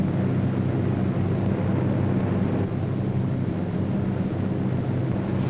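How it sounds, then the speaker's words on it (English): Steady, dense engine drone from a formation of eighteen World War II B-17 bombers in flight, a continuous low rumble with broad roaring noise and no breaks, loud and unchanging throughout. "A formation of 18 B-17s was on its way to attack Rouen."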